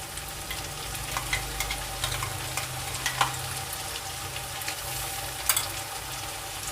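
Ginger garlic paste frying with onions for mutton biryani gives a steady, close sizzle, with a few sharper crackles and light stirring scrapes over a constant hissing bed.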